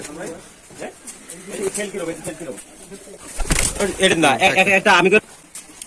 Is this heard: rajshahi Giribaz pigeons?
yes